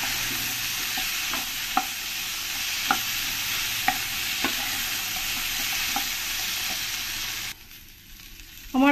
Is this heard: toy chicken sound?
no